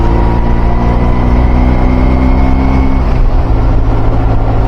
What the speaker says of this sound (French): En 4ème à 30 à l'heure, ça va. C'est pas un 4 cylindres, donc ça broute un peu quand même.